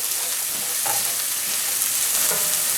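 Onions, garlic and a spice mix fry in a pan, giving a loud, continuous hissing sizzle with faint stirring scrapes, steady throughout and with no voices.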